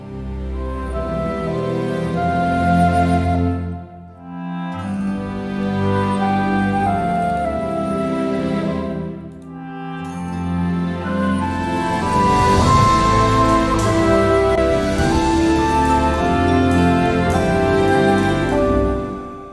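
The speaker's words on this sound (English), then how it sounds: "Here's the sound of Ionian." An orchestral piece in the Ionian mode led by flute, its tempo flexing for an organic flow, plays alone for about twenty seconds, full and steady apart from two brief dips in level.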